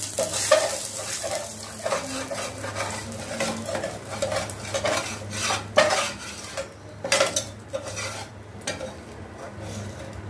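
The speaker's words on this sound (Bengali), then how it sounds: "বাকি যে মাছগুলি আছে সেটা ভেজে নেব" Fish frying in oil in a pan gives a continuous close sizzle, broken by frequent clinks and scrapes of a metal utensil against the pan as pieces are moved and lifted.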